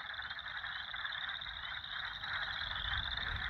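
Frogs croak in a pond in the woods, a duck-like rattling call repeating in steady overlapping pulses at moderate distance, continuous throughout.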